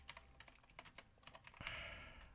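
Quiet, quick typing on a computer keyboard, a rapid run of light key clicks close by with no talking, ending in a brief soft rustle.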